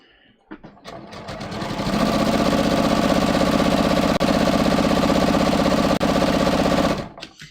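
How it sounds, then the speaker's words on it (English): A sewing machine with a built-in walking foot whirs up to speed and stitches in a fast, even mechanical buzz for several seconds, then winds down and stops, close and loud. "this machine has a built-in walking foot, which I think helps, helps get a nice smooth seam"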